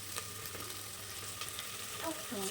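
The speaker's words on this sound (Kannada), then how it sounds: "ಈರುಳ್ಳಿ, ಪುದೀನ ಮತ್ತು ಕೊತ್ತಂಬರಿ ಕಟ್ ಮಾಡಿ ಇಟ್ಕೊಂಡಿದ್ದೆ, ಅದನ್ನು ಹಾಕಿದ್ದೀನಿ." Chopped onions, mint, coriander and four or five green chillies frying in a pan for mutton pulao, giving a steady, low continuous sizzle close by with a few faint stirring clicks, no talking.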